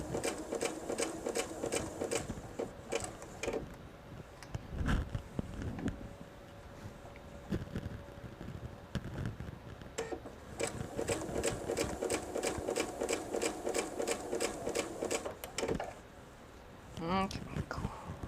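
A sewing machine stitches a jelly roll purse in steady runs of fast, even mechanical whirring, with brief pauses between runs and a few soft handling knocks.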